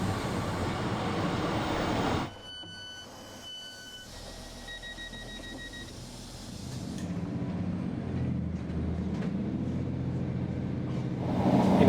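A passenger train arrives at a station on the Calder line heading toward Blackpool. A broad rumble drops away briefly while a few clear two-tone chimes ring out, then the rolling train noise swells again and grows louder toward the end.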